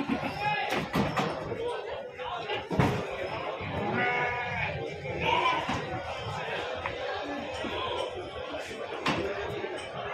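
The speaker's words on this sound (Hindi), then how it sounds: "ये सुजात बकरी," Goats bleat loudly and often at a crowded goat market, close and overlapping, with people talking steadily throughout and sharp knocks or slams now and then.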